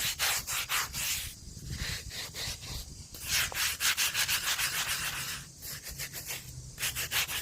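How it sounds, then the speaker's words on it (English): A brush scrubbing a dirty sandstone headstone base, rhythmic back-and-forth rasping strokes in quick bursts with brief pauses, close and fairly loud, no speech. "You can just give it a quick scrub."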